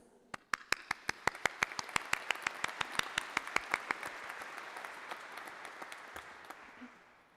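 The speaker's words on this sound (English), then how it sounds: "I would like to take a moment to applaud them for their service to us" An audience at a university college of arts and sciences ceremony claps for faculty and staff, with sharp, distinct individual claps that build into moderate applause and then gradually thin out and fade.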